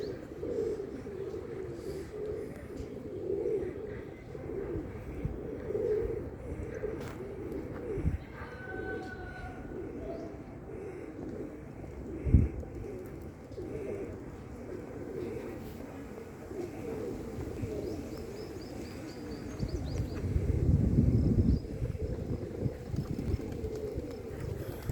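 Many pigeons coo together in a low, continuous burbling chorus, with an occasional sharp knock and faint background noise.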